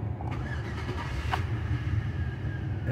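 A Chevrolet GMC truck with a 5.3 L engine idles steadily, a low continuous rumble with a brief higher whine partway through, moderately loud and close, with no talk.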